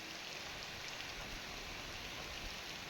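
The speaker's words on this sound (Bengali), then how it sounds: "অঝরে বয়ে চলেছে বৃষ্টি" Heavy rain pours down steadily in an Indian village on a rainy day near a pond, a dense, even hiss of drops striking surfaces with no voices.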